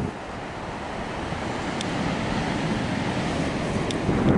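Steady wind and surf at Doran Beach, Bodega Bay, a continuous broadband roar of waves with wind buffeting the microphone, swelling slightly toward the end, no voices.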